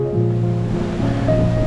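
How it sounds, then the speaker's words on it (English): Ocean waves wash steadily around a sailboat heading offshore through a reef pass in the South Pacific, a continuous loud surf roar with a low droning hum beneath it and no talking. "These waves are, They're growing."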